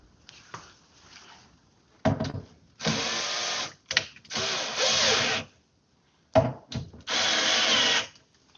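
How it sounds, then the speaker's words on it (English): A power drill driving screws tight, in several loud buzzing bursts of a few seconds each separated by pauses, with brief clunks and handling noises between them. "Now I gotta tighten those screws up."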